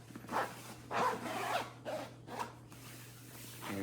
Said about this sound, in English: Let's see if this thing zips up.